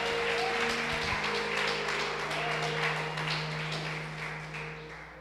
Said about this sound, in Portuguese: Vamos aplaudir mais uma vez o Senhor.